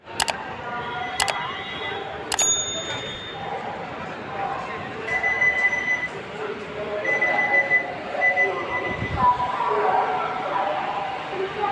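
A passenger train pulling into SMVT Bengaluru railway station near Baiyappanahalli, with a continuous rumbling rolling noise and faint high squeals building over several seconds, a few sharp clanks at the start, and someone talking over it.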